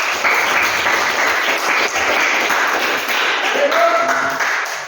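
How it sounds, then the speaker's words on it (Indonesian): A classroom group applauds a peer after a practice session, steady clapping filling the room throughout with faint voices mixed underneath. "Iya, tepuk tangan dulu."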